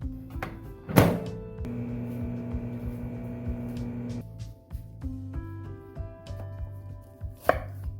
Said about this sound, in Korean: 그 사이에 양파 약간 다져주고 햄도 양파 크기만 하게 썰어 두세요.